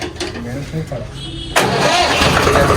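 A tractor's diesel engine, left sitting unused for many days, cranks and catches about halfway through, then runs loud and close; voices talk over the quieter stretch before it fires.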